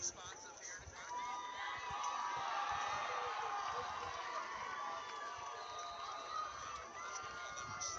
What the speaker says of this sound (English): Stigler fans over there cheering, excited